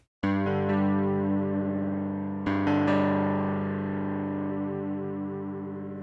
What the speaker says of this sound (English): This is basically an LFO control for the chorus chip.